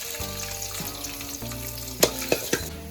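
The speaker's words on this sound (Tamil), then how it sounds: "வெள்ளைப்பூண்டு நல்லா வறுத்தாச்சு" Chopped garlic fries in oil in a pan with a bright, continuous sizzle, broken by a few sharp clinks of a utensil stirring near the end.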